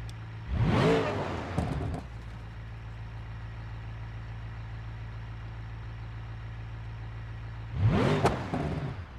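A twin-blown Jeep engine in BeamNG.Drive, idling with a steady low rumble, then flaring into two sharp revs, one early and one near the end, each climbing and falling quickly, loud and close.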